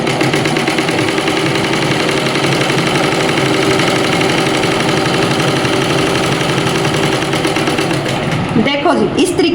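A sewing machine stitching pant fabric runs in a loud, steady, fast mechanical chatter for the whole clip, close up, with a voice speaking under it near the end.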